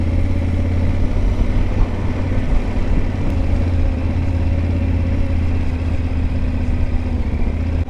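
Motorcycle engine rumbling steadily while riding along the shore of the Étang de Thau, a continuous low, even drone with light mechanical clatter and no speech.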